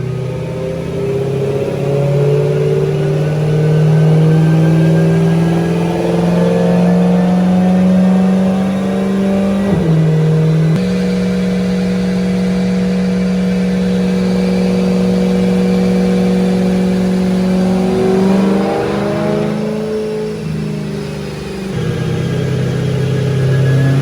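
A BMW M3 runs on an AWD Dynojet dyno, its engine holding a loud, steady drone that shifts pitch sharply twice as gears change under sustained load.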